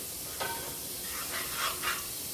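Ingredients are stirred around in hot oil in a pan, bringing a faint, soft hiss of sizzling with a few light scraping strokes and one sharp knock at the end.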